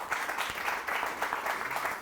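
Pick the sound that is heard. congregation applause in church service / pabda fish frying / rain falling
congregation applause in church service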